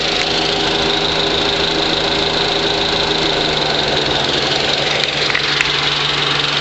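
Car engine running steadily under load from an HHO generator, a continuous loud mechanical drone with a low steady hum and no pauses, close to the microphone.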